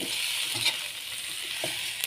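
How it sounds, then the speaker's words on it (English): Potatoes frying in a skillet crackle in a soft, steady sizzle as they are stirred, with a few scraping clinks of the utensil against the pan, close by. "Add in your potatoes and mix this well."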